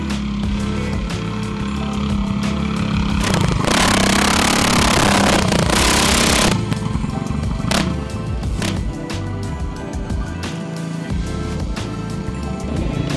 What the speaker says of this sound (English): What we have here today is a plethora of different mini bikes and go-karts